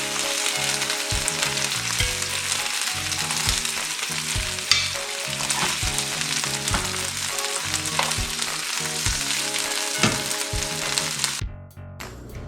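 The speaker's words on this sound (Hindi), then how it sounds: "बाकी की भी चिकन को हम इसी तरह फ्राई कर लेते हैं" Chicken pieces frying in hot oil in a pan, a steady dense sizzle with repeated crackles and bursts, close and loud throughout, then cutting off abruptly near the end.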